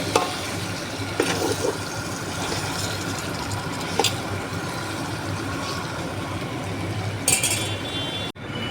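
Water pours into a pot of country chicken curry cooked in oil. A steady rushing splash runs close and constant with a few light clinks, then cuts off abruptly near the end.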